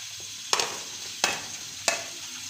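Onions go into hot ghee in a kadhai with three sharp stirring scrapes, each followed by a bright, close sizzle. A steady low frying hiss carries between the strokes, and no one speaks.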